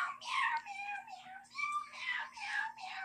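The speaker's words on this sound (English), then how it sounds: "This is Beyonce, the famous singer cat. She can really sing." A cat gives a run of long, drawn-out meows that rise and fall like singing, five or six clear calls one after another, close and fairly loud over a low steady hum.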